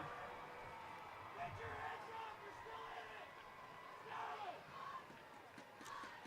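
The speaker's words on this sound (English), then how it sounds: "They're still cheering on their team until the very end." Vian fans at a state championship football game against Davis keep up a steady, distant crowd roar with swelling cheers and shouts, while commentators talk over it.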